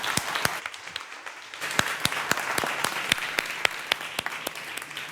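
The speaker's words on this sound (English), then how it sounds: "So let's give a big applause to these experts," An audience applauds a panel of experts at the close of a session. Steady clapping runs throughout, with a few loud, distinct claps close by standing out regularly over a softer, fainter crowd wash behind.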